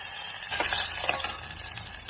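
Mustard seeds and green chillies sizzle in hot coconut oil for a ginger-curd curry, a steady close crackling hiss with a few sharper pops, no talking.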